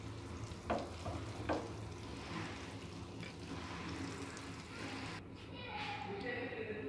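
Fish pieces fry in a pan with a faint, steady sizzle, a few clinks and scrapes as pieces are turned, and a quiet voice talking over it.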